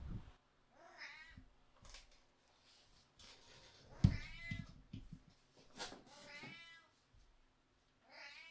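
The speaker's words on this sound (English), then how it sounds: "my cat wants to be let out" A cat meows to be let out, several drawn-out, pleading meows in a row with pauses between, close and clear in a quiet room.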